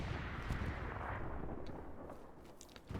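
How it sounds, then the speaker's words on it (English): Grenade blasts during a competitive esports match of a tactical shooter video game, a dense rumbling barrage of booms and crackling gunfire that fills the whole stretch, loud and continuous with a few sharper hits. "Minentreter throwing grenades"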